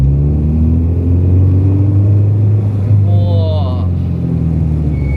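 A Honda Integra's B20B VTEC engine while driving, a loud continuous droning hum with steady low harmonics inside the car, and a brief higher warbling whine partway through.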